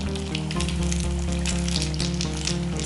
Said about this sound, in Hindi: अब इनको डीप फ्राई कर लेते हैं। तेल गरम हो गया है, अब उसमें डालेंगे